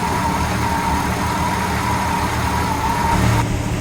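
A 1965 Ford Mustang engine running at a high idle after a carburetor adjustment, a steady close rumble that holds evenly throughout with no talk.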